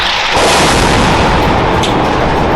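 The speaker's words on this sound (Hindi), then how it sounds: "एक रॉकेट गिरने के बाद तो ऐसा धमाका हुआ कि कान के पर्दे" A rocket strike in Gaza explodes with a sudden loud blast that swells into a long, dense roar of rumbling debris and noise, sustained to the end.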